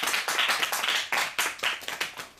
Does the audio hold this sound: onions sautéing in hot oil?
no